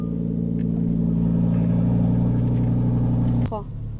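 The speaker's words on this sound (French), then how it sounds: "Donc, j'ai démarré la voiture." Lamborghini engine on a cold start, idling loud and steady with a deep, even drone. Near the end the note drops abruptly, then a brief rising squeal follows and the sound settles lower.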